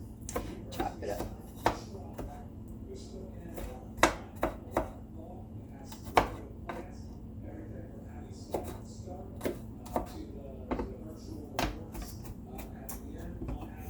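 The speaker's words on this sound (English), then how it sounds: "And we're going to chop that up. Chop it up." A knife chops garlic cloves on a cutting board in a home kitchen, sharp irregular taps repeating at a moderate pace, close and clear against a quiet room.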